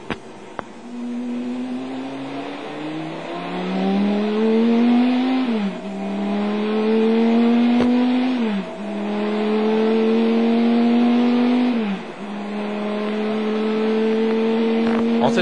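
A Chrysler Viper GTS-R race car at Le Mans in 1999 roars loudly and steadily, its engine note climbing through several gear changes with brief dips between shifts.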